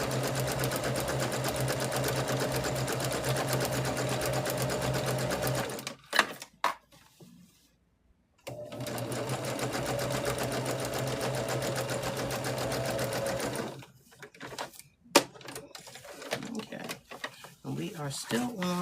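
A sewing machine runs in two long, steady stitching bursts with a fast rhythmic whir, each ending in brief clicks and handling noises. A voice talks during the pauses.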